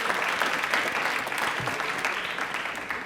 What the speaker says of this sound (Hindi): तो एक बार तालियां हमारे मंत्रालय के लिए,